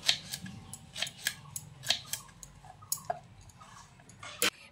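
Fresh okra (bhindi) being sliced on a kitchen board, a series of crisp, close cutting snicks in an irregular rhythm, each sharp and short, with no talking.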